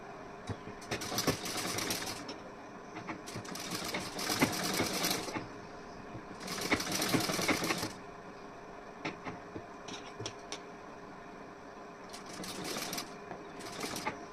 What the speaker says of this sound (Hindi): यहाँ पे भी मैं ऐसे स्टिचिंग कर रही हूँ